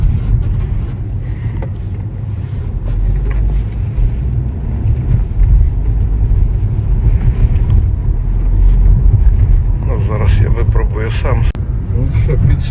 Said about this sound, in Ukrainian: Зараз я проїду заради відео